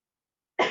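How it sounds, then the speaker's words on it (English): A single short dry cough from a person recovering from the flu, sudden and close after silence, cut off at the end. "I'm still just dealing with like the dry cough."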